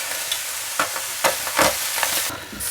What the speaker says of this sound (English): and 3 cloves of garlic. Now we're going to cook this until they're lightly brown.